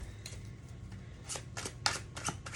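Tarot cards shuffled by hand nearby, a quiet riffling start that builds into several brisk, papery bursts of cards slapping together over a low background hum.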